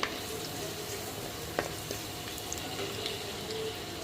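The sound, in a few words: peanuts, sesame seeds and garlic frying in a pan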